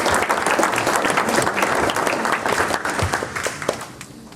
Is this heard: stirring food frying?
no